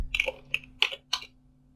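Four distinct, separate keystrokes on a computer keyboard, close and clear against a quiet room with a faint electrical hum.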